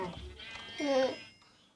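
A sheep bleats once from close by, in a wavering, nasal cry lasting about a second on a farm with livestock, and fainter sounds come before it.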